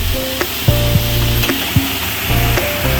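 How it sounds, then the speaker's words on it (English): Tomatoes and red chili powder sizzle steadily in a hot pan, with a continuous loud frying hiss broken by brief clinks and scrapes of stirring. "Now she will be adding some tomatoes. Now some red chili powder is being added."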